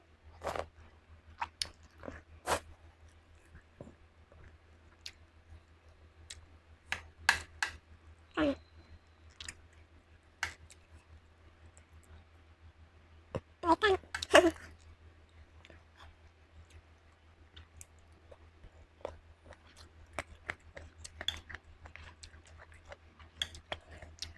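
Someone eating stir-fried puffball mushrooms (het phao) that pop when bitten, producing scattered close, sharp crunching and clicking bites at irregular intervals over quiet background hum.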